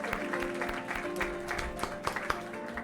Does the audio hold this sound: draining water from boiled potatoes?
no